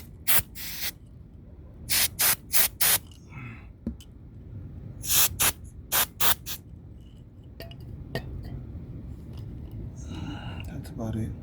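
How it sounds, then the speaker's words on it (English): Brake cleaner hisses from an aerosol can in several short bursts while cleaning a car's oxygen sensor, crisp and close, separated by pauses with quiet voices and faint handling clicks. "This is what I'm using, by the way, brake cleaner, just in case."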